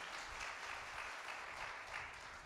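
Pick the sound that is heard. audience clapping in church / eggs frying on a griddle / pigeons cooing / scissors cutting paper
audience clapping in church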